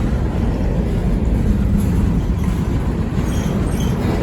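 A freight train rolling past at very close range in Memphis, Tennessee, a loud, dense low rumble of wheels and cars with faint high squeals, steady throughout.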